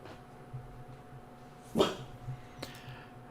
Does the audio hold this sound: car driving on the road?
no